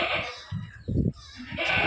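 Young goat bleating on a livestock farm, a short loud cry in the middle with fainter bleats and farm noise around it.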